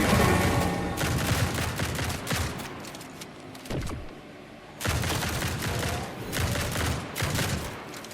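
Pump shotgun blasts from the game Grind Survivors, repeated loud booming shots in dense clusters, with a brief lull midway before the firing resumes.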